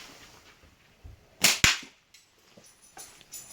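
A scout slingshot fires twice in quick succession, each shot a sharp, loud snap like a cap gun, the second close behind the first, followed by a few faint ticks in otherwise quiet surroundings.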